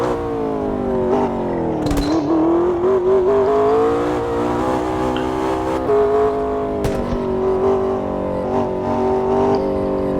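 Race car engine in the Automobilista 2 sim, revving hard with a steady harmonic whine that rises and falls as the driver lifts off and lets engine braking slow the car, loud and continuous throughout.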